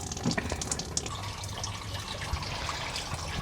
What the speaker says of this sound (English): And now we have coolant all over the ground.